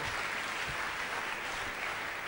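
A church congregation at a Sunday service applauding, a dense, steady wash of many hands clapping together, fairly loud and continuous throughout with no distinct voices.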